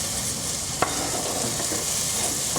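Bacon and vegetables frying in a pot, a loud, steady sizzle with a single sharp clink of a utensil early on, no talking.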